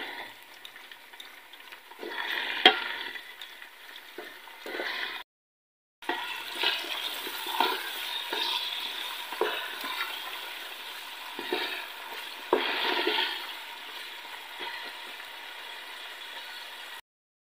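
Finely chopped potatoes fry and get stirred in a pan for vegetable rice, giving a steady sizzle broken by scraping and clinking stirs, with a brief gap partway; no speech.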